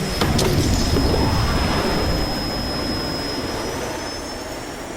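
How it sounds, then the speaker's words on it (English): A jet airplane takeoff sound effect plays as a loud, sustained roar with a high whine on top that fades slowly as it goes on. "T. Gray and MK, you are now cleared for flight school takeoff."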